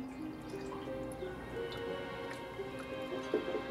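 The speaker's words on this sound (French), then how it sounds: "Le flacon commence à se remplir." Water dripping through a tube into a flask that is filling under gravity, faint irregular drips and ticks over a low steady background hum.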